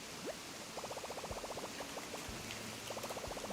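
A waterfall in the Animal Crossing video game rushes as a steady, faint wash of falling water, with soft game sound effects and chirps dotted over it.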